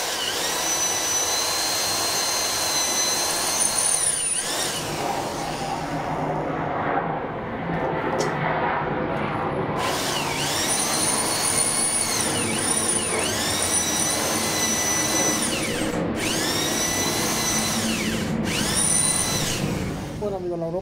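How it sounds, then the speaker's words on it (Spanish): A drill bores into metal, its bit lubricated with oil, giving a steady loud whine and grinding that runs continuously, with recurring rising and falling tonal sweeps as the bit bites and eases. "vamos a echarle un poquito de aceite para que la broca no se nos queme y iniciamos la perforación."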